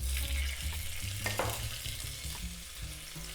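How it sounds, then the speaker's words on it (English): Garlic and lemon rind fry in a pan with a dense, continuous close sizzle and a few faint stirring touches, with no talking. "let's add the garlic as well as the lemon rind"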